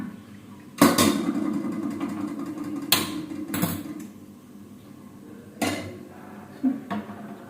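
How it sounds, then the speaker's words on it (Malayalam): Masala tempering in a pan, a low steady sizzle with several sharp metallic clanks and scrapes of a utensil against the pan, close and fairly loud, without speech. "അതേ ചട്ടിയിൽ നമുക്ക് എന്ത് ചെയ്യാം മസാല താളിക്കാം"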